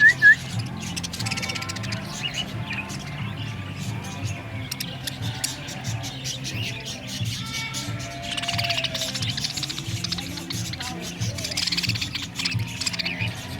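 Flock of budgies (parakeets) in a sanctuary at a farm, chirping and chattering in a busy overlapping mix of short calls and whistles, fairly close, with faint background murmur.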